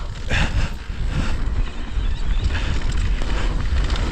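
Strong wind roars steadily across the microphone on a mountain bike trail in Rotorua, a loud, continuous rumbling buffet with no voices.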